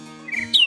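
A short video-game bird chirp, two quick bright tweets rising in pitch, clear and close over a low background hum.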